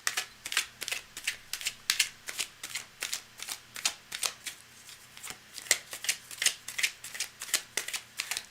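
Tarot cards shuffled by hand in a steady riffling run of about two dozen crisp, close slaps and flutters, sounding alone without talk.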